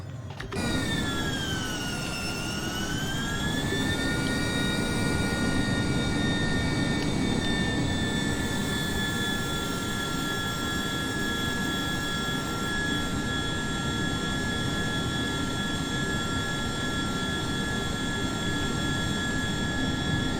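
A Honda Jet in Microsoft Flight Simulator powers up for takeoff with a loud, steady jet engine roar, its rising whine settling into sustained high tones over a continuous rumble for the whole stretch, with no one talking.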